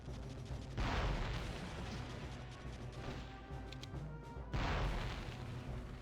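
An RPG rocket slams into a tank in the video game Conflict Desert Storm, giving two loud, deep booming blasts a few seconds apart, each rolling away under continuous battlefield rumble with no talk.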